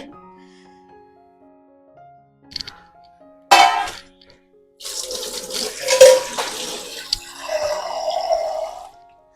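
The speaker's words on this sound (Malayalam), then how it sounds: "ഇതാ വേവാനുള്ള വെള്ളമാണ് നമ്മൾ ഒഴിച്ചു കൊടുക്കുന്നത്" After a couple of clanks, water splashes and pours into a cooking pot holding ash gourd and green chillies for several seconds, close and moderately loud.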